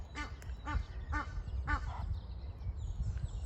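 Geese on a river call in four evenly spaced honking squawks over about two seconds, fairly close, then go quiet against a low background rumble of outdoor noise.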